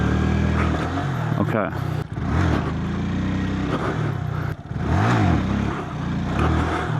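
Small 8hp motorcycle revving during wheelie practice in Florida, the engine note climbing and dropping through repeated rev sweeps with brief gaps between them, close to the microphone, while a voice briefly speaks.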